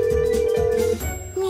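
A cartoon telephone rings with a steady electronic tone, one long ring, a brief pause, then another begins, clear and close with a soft low background underneath.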